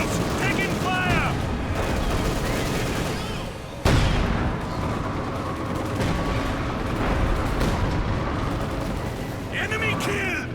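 Gunfire crackles through a Company of Heroes 2 battle, with continuous shots and bursts, a sudden loud blast partway through, and in-game voices calling out over the combat noise.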